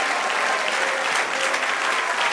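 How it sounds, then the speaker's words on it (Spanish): Dense, steady applause from a church congregation, loud and close, sustained throughout without pause, with a few voices faintly mixed into the clapping. "Denle otro aplauso al Señor"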